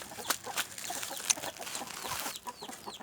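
Chickens cluck softly in the background, with scattered faint calls and clicks around a quiet farmyard.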